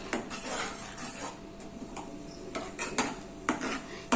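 Chicken gravy stirred in a pan for dragon chicken, with a utensil scraping and clinking against the metal in irregular taps, a few sharper knocks near the end, close by with no talk.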